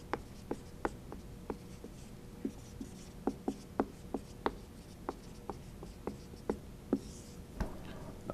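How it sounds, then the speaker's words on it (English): Pen writing notes during a business law lecture, with quiet scratchy strokes and light taps in an irregular rhythm over a steady room hum. "Let me just write that down."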